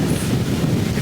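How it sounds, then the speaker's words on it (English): Steady wind buffeting a camera microphone outdoors near the sea, a continuous low rumbling roar throughout with no voices. "very windy today"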